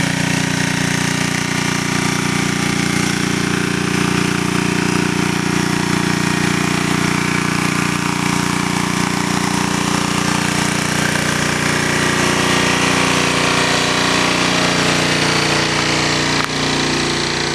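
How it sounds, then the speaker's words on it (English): A wood-gas powered engine runs steadily at constant RPM, a loud continuous mechanical drone with no change in pitch or speed and no voices. "You can hear it. This engine hasn't changed RPM since I've been out here walking around."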